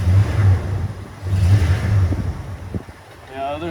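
A 1987 Dodge Ram D150 Desperado short bed runs loud with no muffler, its engine droning low and revving up and settling, close by, with a person speaking over part of it.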